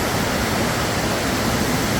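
A forest stream flows beside its bank on the way up toward a jungle waterfall, producing a continuous loud, close rushing wash of water that stays even throughout, with no voices.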